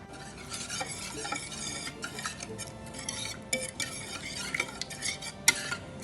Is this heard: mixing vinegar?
yes